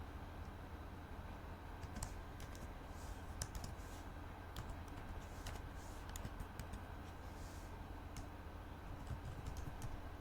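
Steady computer keyboard typing while Python code is entered, a continuous run of light key clicks with a few sharper taps, close and fairly quiet, with no voices.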